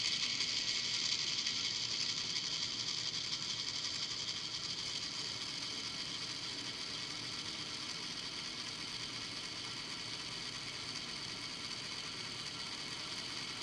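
A Juki industrial straight stitch sewing machine winds a bobbin, giving a steady, fairly faint mechanical whir with a high whine that runs evenly and without a break.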